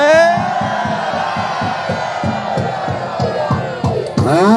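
A large crowd at a street demonstration roars and cheers loudly with rhythmic shouting and whoops, a dense close wall of voices that swells near the end.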